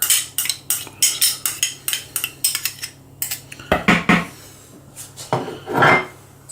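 Marinated mutton for chops mixed with spices in a bowl: a series of close, rhythmic clinks and scrapes of a utensil against the bowl, then a few heavier, wetter stirring strokes.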